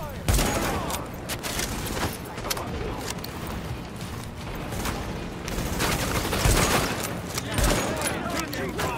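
Heavy sustained gunfire in Tom Clancy's The Division, a dense fusillade of overlapping shots and booms rolling on throughout, with voices calling out beneath the shooting.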